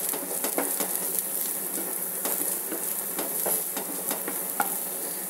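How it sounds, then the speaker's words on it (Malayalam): Garam masala being stirred into egg macaroni in a pan: a steady sizzle runs throughout while a spoon scrapes and taps the pan in repeated strokes, close and clear, with no talking. "നന്നായി ഇളക്കി കൊടുക്കുക"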